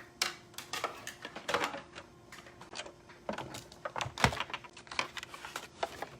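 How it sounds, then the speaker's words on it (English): A Stampin' Cut and Emboss machine is cranked by hand, giving a close run of irregular clicks and ratcheting ticks that continue for several seconds at moderate volume, with no talk. "it's time to roll in our Stampin' Cut and Emboss machine."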